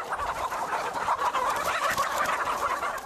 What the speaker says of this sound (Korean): 닭은 원래 가만히 있지 않고 활발히 움직이는 동물이다.